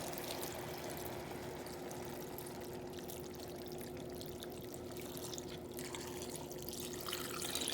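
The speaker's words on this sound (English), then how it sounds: "add about 2 cups of water, depending on how big your pot is and how much meat you're cooking" About two cups of water pour steadily into a cooking pot for oxtails, a continuous splashing rush that stays even and fairly close for several seconds.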